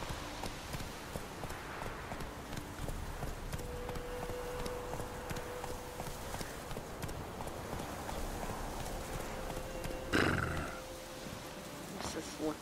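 Hooves of a horse galloping in the video game The Witcher 3, a steady clip-clop rhythm under ongoing talk, with a brief louder clatter near the end.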